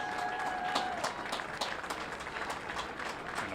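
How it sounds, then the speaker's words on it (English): Crowd applause for the 2019 St. Clair Hall of Fame induction class at a high school football game, a steady wash of many hands clapping from a distance, fairly faint, with a few sharper claps standing out. "Let's give one last round of applause for the 2019 St. Clair Hall of Fame induction class."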